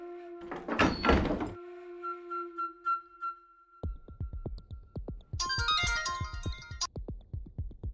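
A phone rings in a Hindi crime drama scene: a sustained tone first, then a run of rapid repeating electronic ringtone pulses with a bright warbling burst partway through, fairly loud and with no talk over it.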